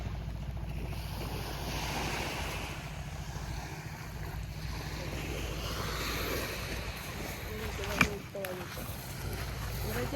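A boat on the sea near a beach, with continuous washing waves and gusting wind buffeting the microphone, people talking throughout, and a brief sharp knock partway through.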